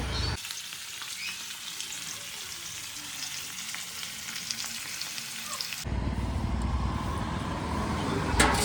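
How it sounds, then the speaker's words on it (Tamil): Large dam fish coated in homemade masala fry in a pan with a loud, continuous hissing sizzle and crackle. Partway through, the sizzle grows fuller and heavier, with no one speaking. "என்ன செய்ய போகிறாங்க ஃபிஷ் ஃப்ரை ஃபிஷ் ஃப்ரை"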